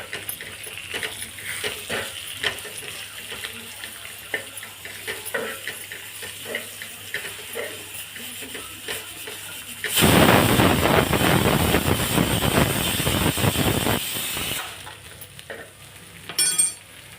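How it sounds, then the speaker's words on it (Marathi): A masala of garlic, ginger and coconut frying in a pan, with soft crackles and stirring scrapes for a while, then a loud burst of sizzling for several seconds before it dies back down. "मसाला चांगला फ्राय करून घेऊ"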